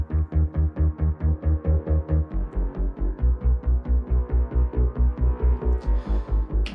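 Hybrid epic music layers play together: a solid, pounding low pulse repeats in a fast, even rhythm beneath sustained harmonic swells and brighter upper textures, loud and continuous with no voice.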